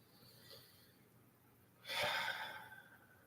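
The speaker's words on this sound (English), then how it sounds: "take a deep inhale through the nose and follow it with a deep exhale through the mouth" A deep breath during a yoga session: a soft inhale through the nose followed by a louder, breathy exhale through the mouth, close and quiet against a faint room background.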